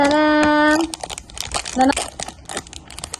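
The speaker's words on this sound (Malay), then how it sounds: "Oh, dia dalam plastik sini je. Okay, saya buka." A plastic wrapper on a blind box from an Eco Shop being torn open, giving close crinkling and tearing bursts after a brief sustained toy-like tone, with a voice chattering briefly.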